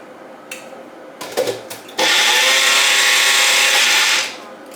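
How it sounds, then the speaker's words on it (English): An electric blender whirs loudly through a kombucha mixture for about two seconds after a few clinks and knocks of handling, then winds down. "So we have to blend it in the blender."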